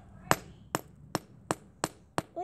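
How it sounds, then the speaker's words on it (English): Hammer blows striking a smartphone to break it: six sharp, evenly spaced impacts about every 0.4 seconds, close and crisp, with a brief voice at the very end. "Wait, what am I hammering?"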